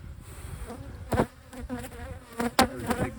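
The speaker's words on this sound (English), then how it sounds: "There's a big ball of bees there." Honey bees buzz loudly and close during a hive inspection in spring, a steady insect drone with several sharp swells as bees fly near, balling up around a hidden queen.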